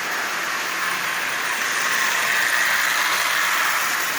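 A Marx 112 switcher toy locomotive, assembled from parts with a single reduction motor, runs around its rail at partial power, giving a steady, even whirring hum with a constant hiss and no breaks.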